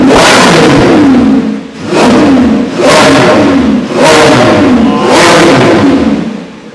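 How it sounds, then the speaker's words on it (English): A 2024 Lamborghini Revuelto's naturally aspirated 6.5-liter V12, heard from outside, blips loudly and close in four or five sharp revving bursts, each rising and falling with short gaps between. "it's time to listen to the sound of the Lamborghini Revuelto from the outside,"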